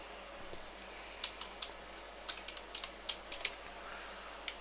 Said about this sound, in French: Oups, en plus je sais même plus taper.